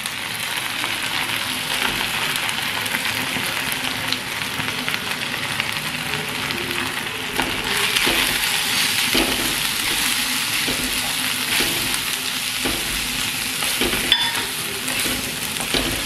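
Spiced masala with salt, coriander, chili and turmeric powder frying in a pan, a strong continuous sizzle broken by scraping stirs and spoon knocks, growing louder midway.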